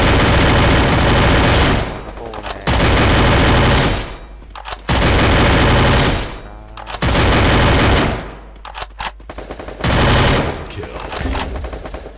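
Loud, rapid automatic gunfire in a shooting video game, with dense bursts of fire lasting a second or two each and separated by short breaks, under occasional talk.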